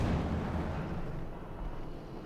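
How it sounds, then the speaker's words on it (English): A T-34 tank shell striking a Panther in Company of Heroes 2, a heavy low rumbling impact boom that starts loud and slowly decays over about two seconds, with no talk over it. "Good hit from the T-34 from 6, punching straight through the Panther 4's armor cleanly"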